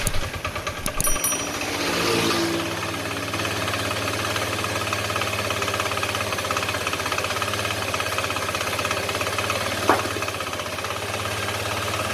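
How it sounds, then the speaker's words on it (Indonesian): A Honda Vario 110 scooter engine, being checked for oil leaking near the radiator, starts up and then runs at a steady, loud idle close by with a continuous low drone and mechanical clatter, alone without talk. "Di sini saya akan coba untuk menghidupkan motor ini"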